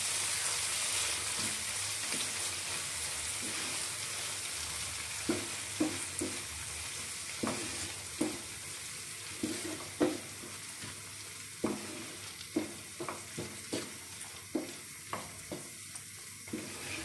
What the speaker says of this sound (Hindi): इसे अच्छे से कर देंगे मिक्स।